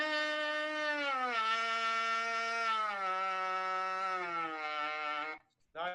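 A trumpet plays a sustained legato run of four notes on one continuous breath, the pitch stepping smoothly down with a bright harmonic-rich tone, close and steady, then cutting off before a brief final blip.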